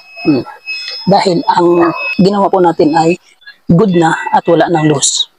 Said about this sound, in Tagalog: continuous po yung tunog ng buzzer